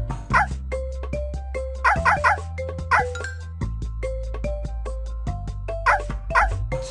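Cartoonish puppy barks and yips from a Dora the Explorer game pop up repeatedly over bouncy, chiming video game music.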